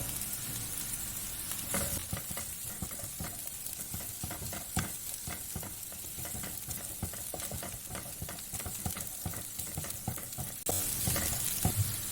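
Chopped green chillies sizzle and crackle in hot oil in a frying pan while being stirred, a steady, close frying hiss with scraping stir strokes and a brief louder burst near the end.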